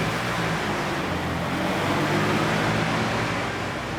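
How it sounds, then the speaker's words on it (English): A car engine labours loudly and continuously from poor clutch control, straining with a rough, droning roar and no let-up. "As you can hear, the poor engine, it's like an animal in pain."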